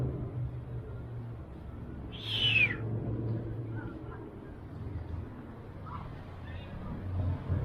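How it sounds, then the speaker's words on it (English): A seagull gives one brief squealing cry at Llandudno Pier, heard over steady outdoor seaside rumble with low murmurs around it. "Hello, Mr. Gull."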